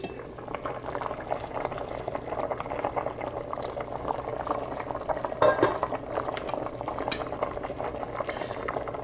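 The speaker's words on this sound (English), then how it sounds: "The beans are now boiling." Beans boil in a pot of water on a stove, a steady close bubbling and rolling churn with a brief louder clink midway, continuous throughout with no talk.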